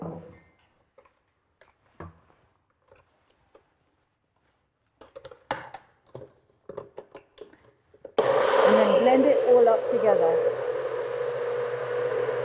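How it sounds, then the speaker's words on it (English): An electric blender whirs loudly and steadily as it blends a banana date smoothie with cinnamon, starting abruptly after a stretch of quiet kitchen clatter and brief talk. "30 seconds in the blender"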